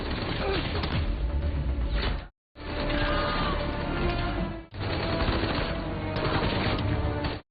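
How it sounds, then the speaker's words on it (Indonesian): Film shootout inside a tunnel, with dense bursts of gunfire and rapid shots that keep going loud and near across three continuous stretches, each broken by a short gap of silence. "Setelah itu John dan Maria pun beradu tembak dengan para pasukan musuh yang ada di terowongan itu."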